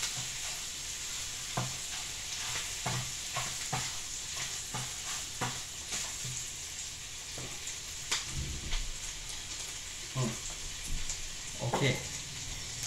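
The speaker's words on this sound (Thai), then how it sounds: "เดี๋ยวทำผัดให้หมูมันสุกก่อนนะครับแล้วค่อยเอากะเพราลง" Sliced pork stir-fries in a pan for a holy basil dish, sizzling softly and continuously while a spatula scrapes and tosses in repeated strokes; fairly quiet and close.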